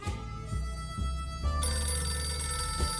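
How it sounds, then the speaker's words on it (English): A telephone rings in the survival video game 60 Seconds, with repeated electronic bell bursts under a steady game music bed and no talking. "A phone."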